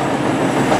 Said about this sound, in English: Here comes a Voyager running to Manchester Piccadilly